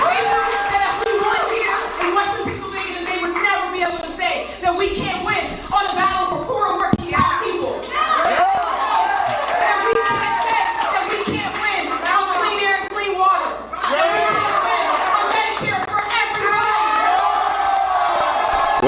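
A loud, dense crowd keeps cheering and shouting through a candidate's primary-night concession speech, with whoops and claps swelling around a speaking voice that is mostly drowned out.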